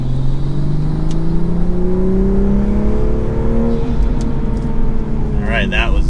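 A Toyota Supra idles and revs, its exhaust drone rising and falling steadily, first in normal mode and then in sport mode, heard loud and close throughout.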